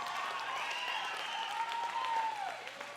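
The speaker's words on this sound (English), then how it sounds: "And the crowd goes wild." A roller derby crowd at a Richter City and New Zealand training squad bout against Team Australia cheers and applauds steadily, with some raised voices and whoops rising above the continuous clapping.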